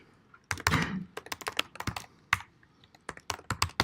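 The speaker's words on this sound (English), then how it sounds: "I'm typing right." Quick, irregular bursts of keystrokes clatter on a computer keyboard, close and clear, with short pauses between runs of typing.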